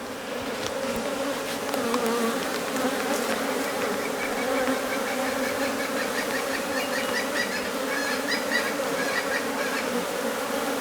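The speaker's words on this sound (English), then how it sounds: "Pretty active little hive." Honey bees swarm around an active hive that was recently disturbed for honey collection, making a steady, dense, close buzzing drone that holds evenly throughout with no talk.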